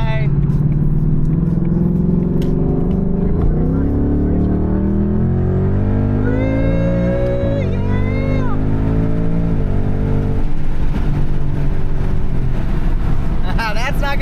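A 2024 Mustang GT accelerates hard from inside the car, its engine note climbing through the gears with loud, sustained roaring and brief dips at the shifts, while people talk over it.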